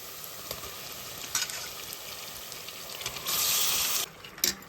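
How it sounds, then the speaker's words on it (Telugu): Country chicken dropped into hot oil with fried onions and curry leaves sizzles and crackles steadily. A louder burst of hissing swells briefly near the end, with a few sharp scrapes and clinks mixed in. "ఉల్లిపాయలు ఆయిల్లో ఇలా వేపుకున్న తర్వాత మనం నీట్గా కడుక్కున్న ఈ చికెన్ వేసుకోవాలి"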